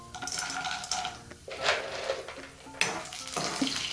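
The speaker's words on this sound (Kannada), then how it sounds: "ಕಡಾಯಿಗೆ 3 ಟೇಬಲ್ ಸ್ಪೂನ್ ಎಣ್ಣೆ, ಒಂದು ಸ್ವಲ್ಪ ಸಾಸಿವೆ, 1 ಸ್ಪೂನು ಉದ್ದಿನಬೇಳೆ, 1 ಸ್ಪೂನ್ ಕಡಲೆಬೇಳೆ, ಸ್ವಲ್ಪ ಕಡಲೆ ಬೀಜ ಹಾಕ್ಕೊಂಡು ಚೆನ್ನಾಗಿ ಫ್ರೈ ಮಾಡ್ಕೊಳ್ಳಿ." Mustard seeds, urad and chana dal and peanuts frying in oil in a kadai, a quiet crackling sizzle with spoon scrapes and metal clinks against the pan, close and unaccompanied.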